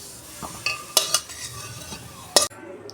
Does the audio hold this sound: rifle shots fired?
no